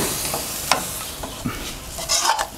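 Coconut milk stirred into a Thai crab curry with betel leaves, a spoon scraping the pot in scattered strokes over a steady low simmering hiss, close and moderately loud, no talking.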